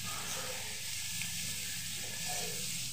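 Green chilli pickle sizzles steadily in a pan over a low gas flame while being stirred, giving a dense, continuous close hiss with soft scraping underneath.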